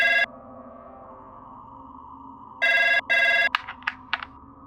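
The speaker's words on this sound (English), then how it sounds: "Transcript of phone call with Craig Trevors, Human Resources." A telephone rings for an incoming call: a short electronic ring, a pause, then two longer ring bursts, followed by a few brief clicks as the handset is picked up, all loud and close.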